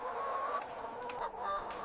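Soft clucking from many broiler chickens in a large poultry house, a steady murmur of overlapping calls with a continuous background hum, heard from a moderate distance.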